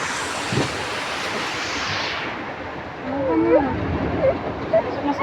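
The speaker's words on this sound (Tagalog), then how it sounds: "Pagka sa tulay, lagpas-lagpasan ng alon." Floodwater and waves wash over a bridge during Typhoon Carina and monsoon flooding, heard as a broad, continuous rushing roar. People shout and talk nearby over the surging water.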